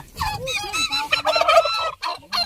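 Chickens clucking close by, a busy run of short squawks and clucks, with a few gaps between calls and some faint background noise.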